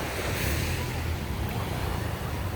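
Ocean surf rolls onto the shore at Gwangalli beach in Busan, a loud continuous wash of waves mixed with wind buffeting the microphone, with no voices.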